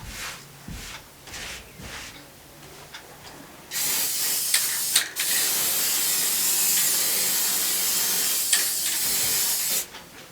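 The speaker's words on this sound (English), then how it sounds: "Just spray lightly. It doesn't have to be a heavy spray." Basting adhesive sprayed from a can onto a quilt: a quiet tapping start, then a long steady hiss of spray that runs for several seconds, breaks briefly, and resumes before cutting off sharply.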